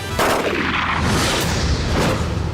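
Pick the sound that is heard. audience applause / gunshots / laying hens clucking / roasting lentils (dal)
gunshots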